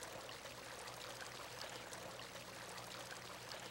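A Maryland mountain stream flows with a soft, steady rushing and trickling of water, faint and continuous, with no voices.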